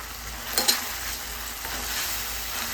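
Vegetables for corn fried rice fry with soy sauce in a pan, giving a constant close sizzle with a couple of sharp clinks of a utensil stirring, and no voices.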